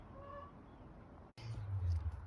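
Hens being fed barley fodder call softly, a few short clucks and honk-like notes, then a lower burst of bird noise after a brief gap, close by.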